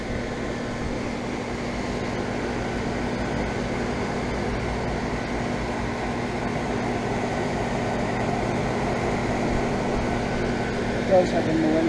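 A 5-ton central air conditioner from 2004 with a Millennium scroll compressor runs outdoors, making a steady droning hum with a fixed low tone under a continuous fan rush.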